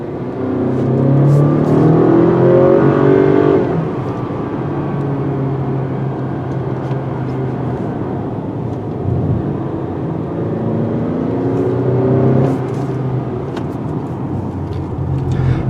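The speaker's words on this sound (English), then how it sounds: "let's put it in the sport mode and take some corners" A 2020 Acura RDX SUV in sport mode accelerating through corners on a road test, its engine droning steadily from inside the cabin with a couple of swells as the revs climb, a continuous loud rumble without talking.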